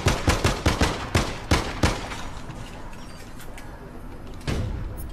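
Gunshots in the video game APB Reloaded ring out as a rapid volley of about nine loud, evenly spaced shots in the first two seconds. A quieter stretch follows, then a single sharp shot near the end.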